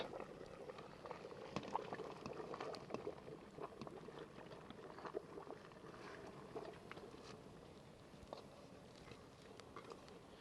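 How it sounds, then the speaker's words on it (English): A pot held at a rolling boil over a StoveTec rocket stove, giving a steady, soft bubbling and pattering that runs the whole time at low level, with occasional small knocks and no talking. "you can see how efficient the rocket stove is keeping the temperature in a rolling boil going"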